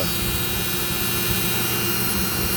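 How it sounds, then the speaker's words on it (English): An old-fashioned Dremel rotary tool runs steadily throughout, a constant high-pitched motor whine with a buzzing hum underneath, close and continuous with no talk. "this little old-fashioned Dremel doesn't have much oomph to it"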